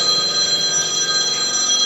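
A telephone in an engine-rebuild workshop rings with a bright, sustained electronic trill that repeats steadily and fills the space, with no voices over it.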